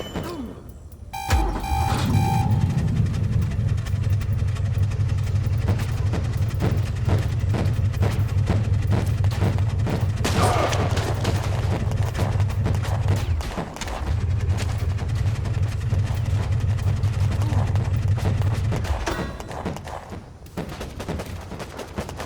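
Sustained rapid gunfire from guns in the strategy video game WarPips, loud and continuous, with a brief pause midway before the firing resumes, then tapering off.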